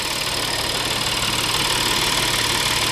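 An Audi A6 C7 engine idles steadily nearby, a continuous loud rumble with a slight knocking vibration and no voices.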